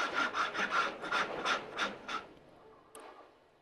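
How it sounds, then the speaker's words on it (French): A leather artisan sharpens a ceramic roof-tile shard against another piece of ceramic, making about eight quick, close rasping strokes in a steady rhythm, then a pause and one short scrape, with no talk. "l'artisan utilise un tesson de tuiles qu'il aiguise soigneusement céramique contre céramique"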